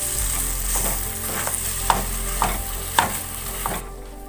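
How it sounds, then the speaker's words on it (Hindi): Boiled mashed potatoes stirred in a frying pan over a low flame, a spoon scraping in steady strokes about every half second over a continuous close sizzle. "आलू को अच्छी तरीके से हम मिक्स करेंगे"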